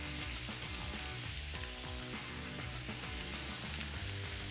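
Spinach and orange layers cook down in a pan for a Greek dish, giving a steady sizzle throughout with a tonal, music-like layer running underneath.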